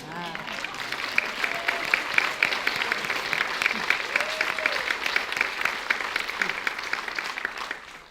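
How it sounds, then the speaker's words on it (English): An audience at a community conversation breaks into sustained, enthusiastic applause, dense clapping that holds steady and loud throughout with scattered cheers and voices mixed in. "I think that's battling for the loudest applause of the evening"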